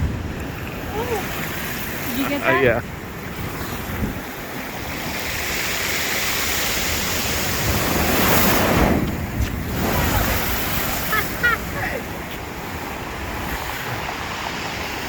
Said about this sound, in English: you can see these waves. I don't even think it's high tide yet. Splashing all over the place, hitting the wall.